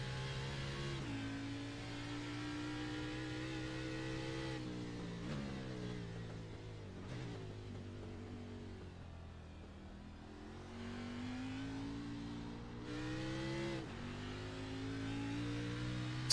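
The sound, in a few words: racing game cars downshifting and accelerating, engine revving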